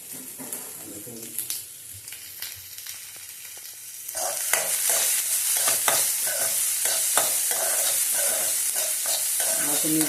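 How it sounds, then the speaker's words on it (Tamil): Chopped onions go into a hot pan partway through. A quieter clatter swells into a loud, steady sizzle with repeated scraping strokes of a spatula stirring them. "வெங்காயத்தை கட் பண்ணி வைத்திருக்கிற வெங்காயத்தை போடவும்"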